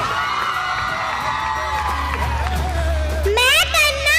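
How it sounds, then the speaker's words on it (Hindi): An audience at a Noble Primary & High School cultural program claps and cheers in a dense, continuous crowd wash, with a voice and tonal sounds running over it and a louder swell near the end. "गौर से तालियां बजाइए।"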